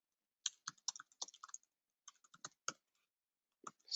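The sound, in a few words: typing text on a computer keyboard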